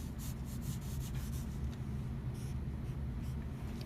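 Hand-writing a fraction produces soft, scratchy strokes, a close-up run of short rubbing marks over a steady low hum, with no talking.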